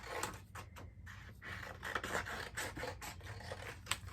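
Scissors snip close by through paper consignment tags in a quick run of short, crisp cuts and rustles, quiet and with no one talking.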